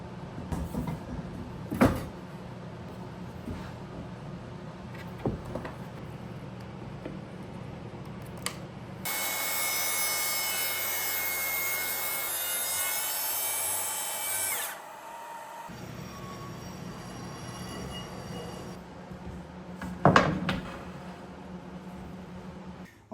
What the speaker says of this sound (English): we're going to clamp the stems down and we're going to make these cuts for real